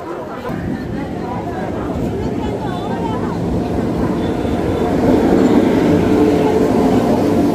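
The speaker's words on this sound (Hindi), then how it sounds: "चलिए आज आने देते हैं ट्रेन को।" A train pulls in at Durgapura railway station in Jaipur, a steady rumble and rail noise building louder over the clip amid a crowded platform, with people chattering in the background.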